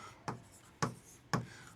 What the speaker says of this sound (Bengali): আমরা একটু সংজ্ঞাটা লিখব